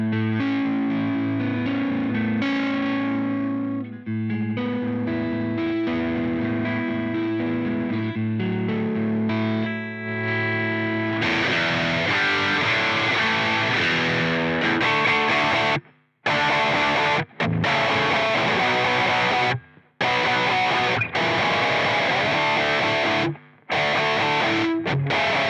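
Distorted electric guitar played through a Line 6 Catalyst 60 amp, sustained chords ringing out and then choppy, gated strummed bursts with abrupt silences between them.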